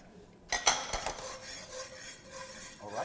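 Food being stirred in a dish with a utensil, sharp clinks and scrapes against the dish after a quiet start, then softer continuous scraping.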